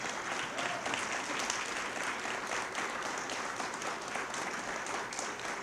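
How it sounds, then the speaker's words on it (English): Audience at a community breakfast applauds the board of directors, a steady, continuous wash of many hands clapping throughout, moderately loud and even, with no break. "give them a round of applause"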